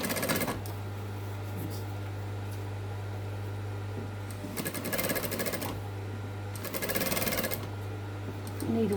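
A sewing machine stitches a zip onto fabric for a garden seat pad in two short rapid bursts of motor-driven needle clatter, close and loud, separated by a steady low hum and quiet pauses.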